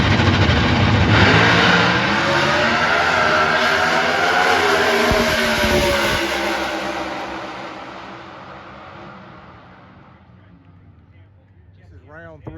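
Factory Stock Camaro drag cars launch together at ZMAX Dragway during qualifying, a loud roaring engine blast that holds and then fades into the distance as they run down the strip, with an announcer talking over it.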